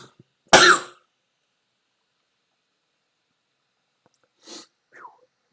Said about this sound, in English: Had a little bit of a sneeze.